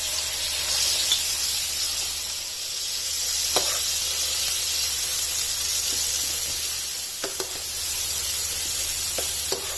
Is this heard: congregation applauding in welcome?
no